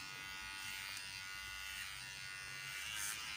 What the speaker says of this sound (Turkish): Adolf'u tıraş ediyoruz değil mi Ertuğrul?